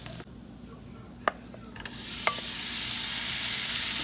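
Sautéed vegetables are stirred into cauliflower fried rice in a pan. A few utensil clacks come first, then a rising, steady sizzle.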